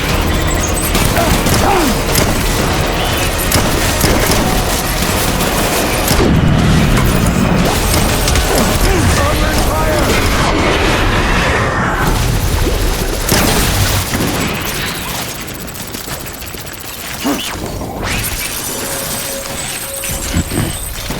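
Heavy shotgun blasts and crashing impacts fill a dense, loud stretch of combat in the video game Death Stranding, with booms and shattering debris layered over a constant din and faint voices.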